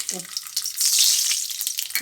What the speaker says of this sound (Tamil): ஒரு டீஸ்பூன் கடுகு போட்டுருக்கேன்